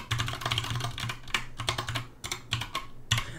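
Quick bursts of typing on a computer keyboard in a Vim-like terminal text editor, crisp, close key clicks arriving in irregular clusters with brief pauses between runs.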